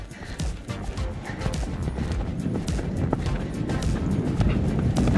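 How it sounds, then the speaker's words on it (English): A horse cantering during a show-jumping clinic training session, hooves thudding in a steady, continuous rhythm at close range, with faint voices and arena noise underneath. "Keep the canter."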